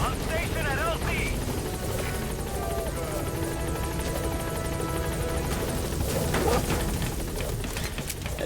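The Pequod helicopter in Metal Gear Solid V arrives at a landing zone with a loud, close, continuous rotor roar and engine drone, while a radio voice talks over it.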